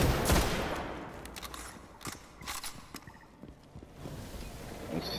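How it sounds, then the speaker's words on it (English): Scout rifle fire in Destiny: scattered sharp shots amid other game gunfire and mechanical clatter, with uneven bursts and gaps over a noisy background. "A scout rifle, kinda nice."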